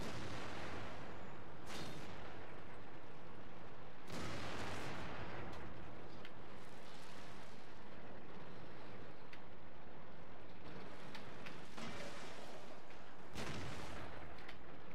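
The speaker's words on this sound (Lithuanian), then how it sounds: "aš nematau, kur šaudo" Bursts of loud gunfire crack repeatedly at irregular intervals, some close and sharp, others rolling, over a noisy outdoor background.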